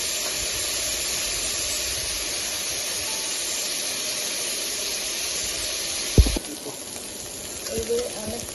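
Bitter gourd frying with salt and turmeric in a pan, a steady close sizzle and hiss that carries on for several seconds, then a sharp clank of stirring, after which the frying continues more softly.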